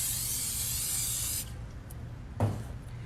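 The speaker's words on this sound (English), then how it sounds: "put a little bit of vegetable spray in it" A steady spray of vegetable oil cooking spray hisses loudly for over a second from an aerosol can into a baking pan, then stops, followed by a soft clunk of the can set down.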